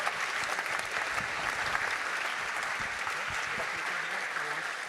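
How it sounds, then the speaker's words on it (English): Audience applause fills a talks stage at a games festival in Berlin, a dense, steady wash of many hands clapping throughout, moderately loud and without speech. "so let's give them a big applause"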